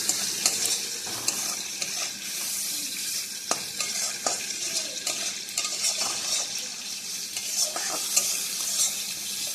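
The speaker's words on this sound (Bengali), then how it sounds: "এবার একটু নাড়াচাড়া দিয়ে নেব, হলুদের গন্ধটা যাতে চলে যায়।" Salt and turmeric stir-fried in a pan, with a steady close sizzle and repeated scraping of a spatula against the pan throughout, no talking.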